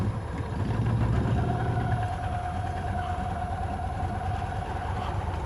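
A motorcycle engine runs at idle with a steady, close, low throbbing rumble that stays even for several seconds, with no voices over it.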